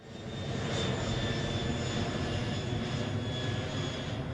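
Airplane engine heard from inside the cabin, a steady loud droning roar with a faint high whine, constant throughout without voices.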